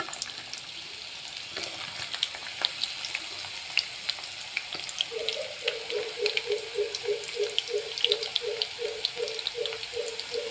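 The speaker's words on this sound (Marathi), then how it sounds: "तेल आता तपून गेलेलं आहे पण त्यामध्ये आता भेंडी टाकून घ्यायची आहे" Okra (bhindi) fries in hot oil with a steady crackling sizzle. A rhythmic bubbling pulse joins partway through and continues to the end.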